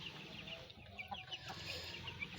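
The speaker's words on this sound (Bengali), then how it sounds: "ওই দেখুন ডিম পাড়া মুরগি" Laying hens cluck softly in a village poultry yard, a few quiet, scattered clucks rising over a low, faint background.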